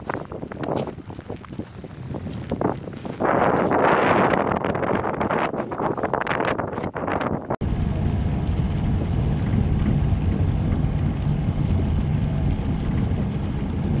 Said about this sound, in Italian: proprio una bufera di neve, di neve, di vento